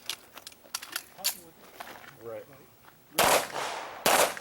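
Pistol shots crack at an IDPA shooting match, a series of sharp reports including two loud, close ones near the end, with people talking between them.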